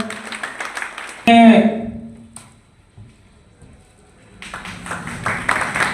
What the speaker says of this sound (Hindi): और सब ताली बजाते रहे भाई, जिसका स्वागत हो ताली बजाते रहे।